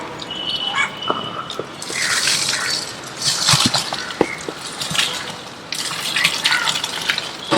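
Rice and lentils poured into a large pot of nombu kanji, a continuous rushing, gushing pour with scattered clinks, loud and close against surrounding chatter.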